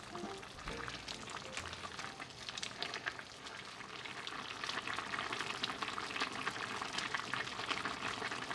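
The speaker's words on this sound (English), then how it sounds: "Simmer over low heat for about 3 minutes." Miso soup simmering over low heat in a pot, a steady soft bubbling and faint sizzle-like hiss that continues evenly throughout, fairly quiet, with no talking.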